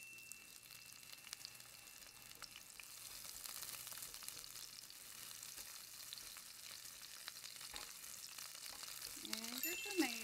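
Onions sautéing in a pan for a vegan gochujang rose pasta give a steady, soft sizzle and hiss that runs throughout, with occasional faint stirring sounds and no talking.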